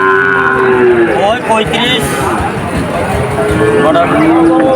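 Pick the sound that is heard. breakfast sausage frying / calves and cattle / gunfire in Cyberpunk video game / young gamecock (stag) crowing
calves and cattle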